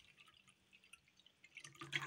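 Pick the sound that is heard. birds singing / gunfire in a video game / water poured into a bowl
water poured into a bowl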